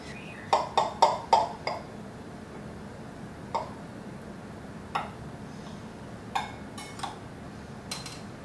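A knife cuts into a freshly baked pear upside-down cake on a plate, giving a quick cluster of light taps and clinks followed by a few sparser ticks, close and quiet, with no talking.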